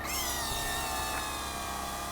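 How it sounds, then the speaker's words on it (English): A RAGE RC Hero Copter toy helicopter hovers indoors inside a store, its small motor and rotor giving a steady, loud, even buzzing whine that holds constant and close throughout. "The helicopter is pretty stable"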